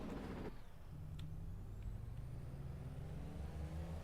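In Farming Simulator 22, a loud hiss of a truck air brake releasing opens the clip, followed by a steady low engine idle rumbling beneath.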